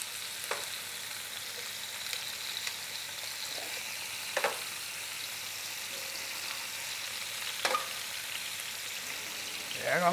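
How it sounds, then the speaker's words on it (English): Beef ribs searing in a hot pan before braising, a constant loud sizzle with occasional crackling bursts as the meat is turned, and no talk over it. "we want to make sure that we get a good sear on all sides of"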